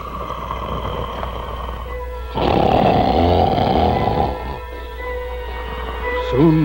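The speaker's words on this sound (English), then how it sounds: "Soon the wicked giant was fast asleep, and the castle trembled with his snores." A giant's loud, rumbling snore rises in a children's story telling of Jack and the Beanstalk, one long growling breath standing out over a quieter background, then a fainter rattle at the end.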